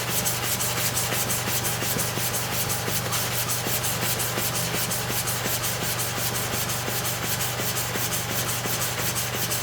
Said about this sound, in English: That's the surface of the blade we are sharpening.